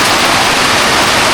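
Heavy rain pours down onto planted crops in a dense, loud, unbroken hiss of falling water with no pauses.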